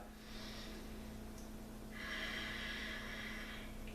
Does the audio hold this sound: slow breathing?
yes